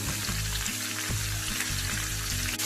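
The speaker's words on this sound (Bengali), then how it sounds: "তেলের মধ্যে আমি আমগুলো দিয়ে দিয়েছি, ভালো করে নেড়ে চেড়ে আমি ভেজে নিচ্ছি" Mango pieces fry in hot oil, giving a close, steady crackling sizzle, with stirring scrapes and clinks breaking in at intervals.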